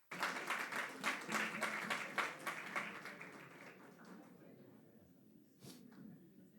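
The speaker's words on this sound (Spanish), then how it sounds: "Denle un aplauso." An audience in a church congregation breaks into dense applause that is loudest for about three seconds, then thins into scattered claps and fades, with one late burst of clapping and some murmuring.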